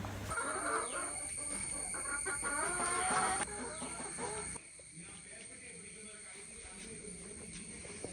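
Backyard chickens cluck and chatter nearby at a family home. The murmuring calls are soft and come in short bursts over a steady background hum, and they thin out partway through.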